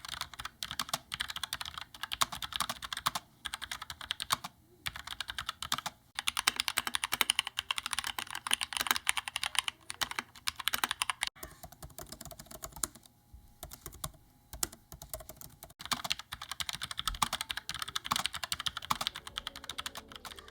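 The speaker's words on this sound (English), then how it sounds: "here are Logitech's MX keyboard, Keychron K2, and then Apple's Magic Keyboard, and what they all sound like" Steady typing on a Logitech MX mechanical keyboard, a Keychron K2 and an Apple Magic Keyboard, rapid clicky keystrokes in bursts with brief pauses, shifting to softer, quieter presses toward the end.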